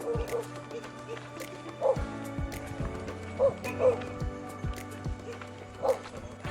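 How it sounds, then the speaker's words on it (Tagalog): A dog barks a few times at spaced intervals, somewhat distant, on a pier at night, over a steady low mechanical hum with a faint voice now and then. "Yan guys, may aso daw."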